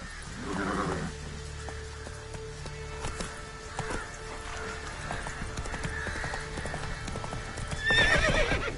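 Horse hooves clip-clop at a gallop in The Witcher 3: Wild Hunt, close and steady, with a horse neighing near the start and a brief whinny-like squeal near the end.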